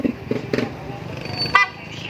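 A loud aftermarket NHAY3+ Pro horn on a Yamaha NMAX V2 scooter honks sharply after a few low thumps, with background noise around it.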